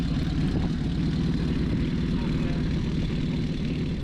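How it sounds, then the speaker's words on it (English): A 1937 Puch 800 motorcycle engine runs at a steady, low, throbbing idle, close and loud throughout with no pauses. "The engine starts very easily."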